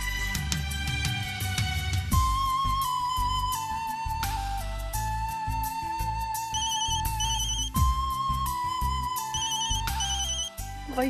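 A phone ringtone plays as a melodic electronic tune, loud and continuous, repeating its phrase with steady rhythm against a dense musical backing, with no talking over it.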